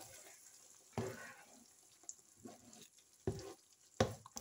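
Asian noodles being stirred in a pan, with a few separate soft scrapes and faint sizzling spaced out over a quiet background, no talking.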